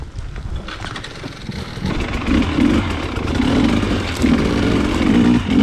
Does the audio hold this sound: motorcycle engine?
yes